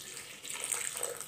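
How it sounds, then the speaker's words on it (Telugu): A short stream of water pouring into a mixer jar over ginger pieces and green chillies, close by and lasting about a second, with no voices. "కొద్దిగా వాటర్ పోసుకుని ముందు"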